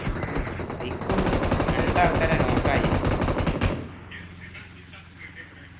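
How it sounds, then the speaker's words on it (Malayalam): Rapid automatic gunfire from a multiplayer shooter video game played with friends, loud dense bursts for several seconds that cut off abruptly, leaving quieter game ambience while players talk over it. "വെടി വരുന്നുണ്ട്."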